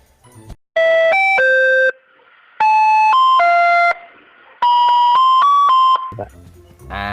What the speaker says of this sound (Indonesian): Ini coba lihat flashbangnya ya, dilempar nanti ada bunyi itu.